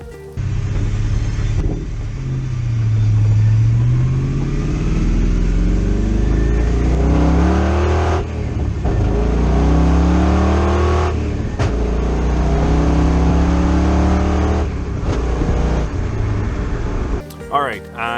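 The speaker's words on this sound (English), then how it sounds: "so you can hear me running through the gears and recording the voltage" Ford Mustang drift car engine pulling hard through the gears, revs climbing repeatedly then dropping at each shift, loud and close from inside the car with a constant low rumble.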